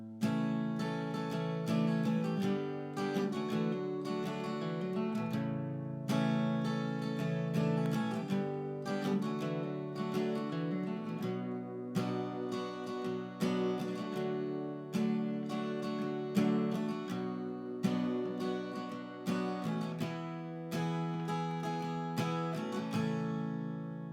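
Acoustic guitar plays the bridge of a song, a steady strummed chord progression with clear rhythmic attacks, close and alone throughout.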